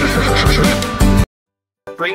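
Horse in a children's counting game giving a loud, close whinny that breaks off into silence, followed by a brief trailing snort-like sound.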